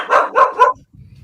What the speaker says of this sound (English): The guard dogs found us.